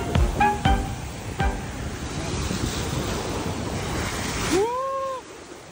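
Ocean waves wash steadily onto a clean, quiet beach along with wind buffeting the microphone, and a short rising-and-falling tonal call rises over the surf just before the end.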